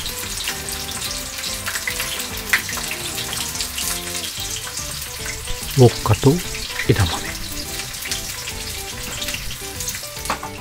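Pieces of white croaker (ishimochi) deep-frying in shallow oil give a constant dense sizzle and crackle close by, with a few louder pops midway and a brief spoken line over it.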